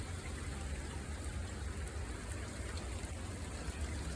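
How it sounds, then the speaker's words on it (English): Penny-sized hail falling in a cold front storm in Portland, Oregon, mixed with rain: a steady, dense patter and hiss that fills the whole clip without pause, with no voices. "No, that's hail."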